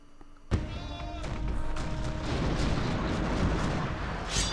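Cannon fire aimed at the player's ship in the Sid Meier's Pirates! video game: a sharp boom followed by a rolling rumble and further muffled blasts over a sustained noisy wash.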